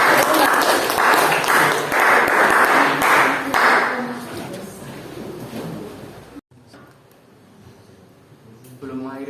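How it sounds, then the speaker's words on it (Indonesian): Children in a classroom clap together for about four seconds, loud and close, then the clapping thins out and stops abruptly. A quieter stretch follows, and a teacher's voice comes in at the end. "Mari kita berikan tepuk tangan anak-anak."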